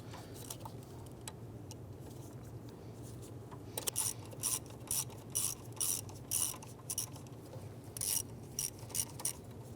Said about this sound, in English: I'm going to go ahead and thread these back down a little bit, and then reverse them out